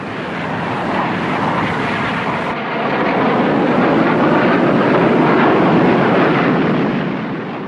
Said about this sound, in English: There were furious air combats over Hanoi and Haiphong as every available MiG was thrown